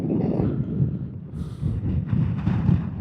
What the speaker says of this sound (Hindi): बहुत ही तेज हवा है।